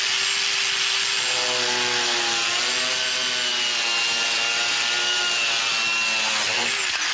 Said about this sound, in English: You can plunge cut into things, too, and that's where those counter-rotating blades really shine.